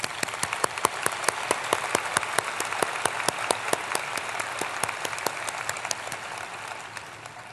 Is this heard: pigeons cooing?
no